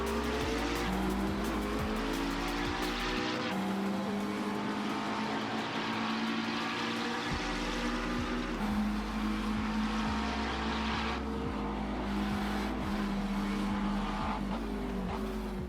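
A McLaren race car laps the Nordschleife in a racing video game, its engine droning loudly and steadily throughout, pitch rising and falling through gear changes, with occasional tire squeal on corners.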